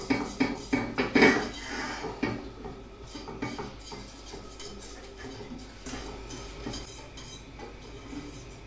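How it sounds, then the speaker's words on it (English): A spoon knocks and scrapes against a pan as double cream is stirred over low heat for a chocolate cake. A quick run of loud clinks comes first, then softer, irregular scraping and tapping up close. "Now we're going to put our double cream onto a low heat. And stir it constantly"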